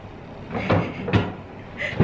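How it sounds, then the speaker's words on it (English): Wooden cupboard doors in a hotel room at Luton Hoo Golf & Spa being opened and shut, three or four close knocks and thuds spaced about half a second apart, with a light rustle between them. "Just looking through every single cupboard."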